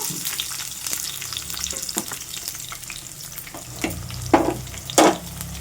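Crushed garlic hits a pan of biryani masala for avakaya biryani, frying with a lively close sizzle as a spatula scrapes and stirs, the strokes growing louder toward the end.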